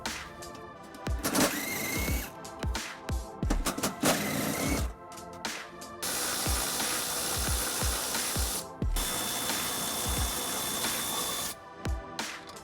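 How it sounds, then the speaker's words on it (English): A ratchet wrench with an 18mm socket works on four bolts during a trailer hitch installation on a 2020-2025 Nissan Sentra, giving bursts of rapid clicking with short pauses and the occasional clunk. "It is being held by 4 bolts that we'll be removing by using an 18mm socket."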